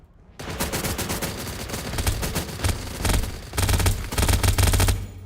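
A charging machine gun in a video game fires a long, dense automatic burst, rapid loud shots running continuously for several seconds with brief dips, heard alone without talk.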